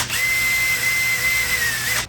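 A power drill spins a sanding attachment against the inside of a wooden piece, giving a steady, loud high whine for about two seconds that cuts off abruptly at the end.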